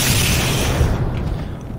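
A grenade explosion in Halo Master Chief Collection multiplayer, a loud, sustained booming burst that fills the whole moment and tails off slightly toward the end.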